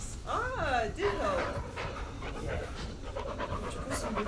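A dog in the Blair Witch video game pants quickly and rhythmically while being petted, soft and close, with people chatting over it throughout.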